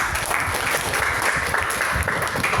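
Classroom applause during a mathematics lesson, a dense, even patter of clapping hands lasting the whole moment, with no talking over it.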